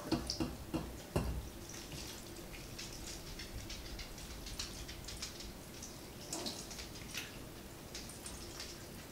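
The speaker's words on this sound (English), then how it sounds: "We're going to put in about 6 cups of water again." Water is poured into a pot of collard greens, a steady close splashing and dripping with a few louder bursts early on, and no talk over it.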